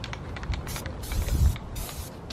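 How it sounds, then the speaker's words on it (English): A spray paint can sprays paint onto a car in a series of close, hissing bursts of varying length, with rustling and handling noise in between. "I'm gonna start spraying."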